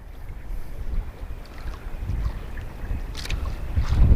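Strong wind at sea buffets the microphone in rough, gusting rumbles on a boat squid fishing over a reef, loud and continuous with no speech.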